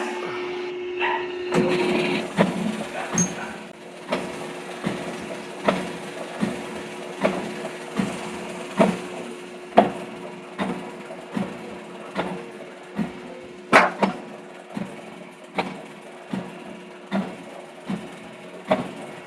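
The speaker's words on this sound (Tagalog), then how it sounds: "Let's see again how the machine runs after all the parts that we have repaired and fabricated are installed." A repaired metal shaper machine runs with a steady motor hum and a regular, repeating knock of its ram stroke roughly every second, loud and close, with no speech.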